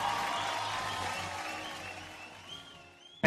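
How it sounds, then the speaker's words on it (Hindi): Applause from an award-show audience fills the clip, a steady broad wash of many hands that slowly thins toward the end, with a sharp burst right at the close. "जोरदार तालियां हो जाए इनके लिए."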